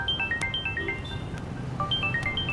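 A phone ringtone plays as a repeating pattern of bright electronic tones in short melodic bursts, fairly close and clear, with no talk over it.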